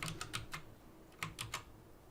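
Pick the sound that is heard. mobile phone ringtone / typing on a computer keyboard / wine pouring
typing on a computer keyboard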